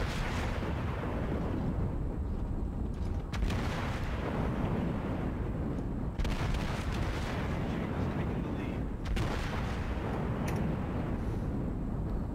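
Main gun salvos from the battleship Fuso in World of Warships, loud rolling booms at intervals of about three seconds over a continuous low engine and sea rumble.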